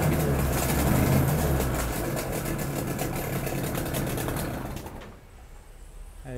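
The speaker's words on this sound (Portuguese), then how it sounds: "Saber que o motor Yamaha não encharca na primeira partida quando está frio" A Yamaha 30 HP outboard motor runs steadily and loudly for several seconds with a dense mechanical drone, then drops away sharply near the end.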